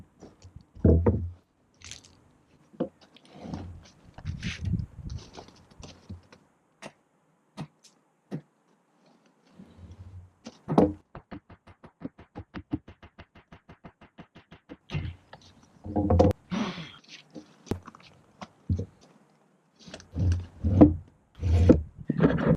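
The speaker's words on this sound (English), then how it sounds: "I'm going to tap it in and grab my baby sledge, tap that foundation over there" A small sledgehammer taps a timber retaining wall into line, giving sharp, dull wooden knocks in scattered single hits and short clusters, close by, with a quick rattling run of light taps midway and quiet gaps between.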